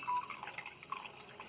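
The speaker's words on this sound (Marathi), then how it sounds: "आता हे त्याच्यामध्ये पाणी टाकतात" Water poured into a brass pot gives a faint, quiet trickle with light splashing and dripping, heard close and alone.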